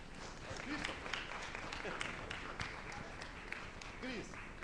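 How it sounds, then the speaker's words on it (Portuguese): A church congregation at a family service gives a round of applause, steady broadband clapping heard faintly with voices and a whistle-like tone mixed in. "Vamos dar uma salva de palmas para o Christian?"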